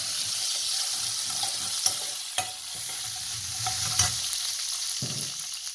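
Red and green chillies fry in a pan with a steady close sizzle, punctuated by a few sharp spatula clacks and stirring scrapes, with no voices.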